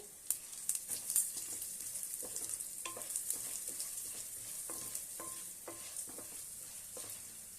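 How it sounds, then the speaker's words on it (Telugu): Chana dal and urad dal lentils dry-roast in a pan, a faint sizzle punctuated by close scrapes and taps of a spoon stirring at an uneven pace, without talking. "కొంచెం పప్పులు వేగాయి కదా"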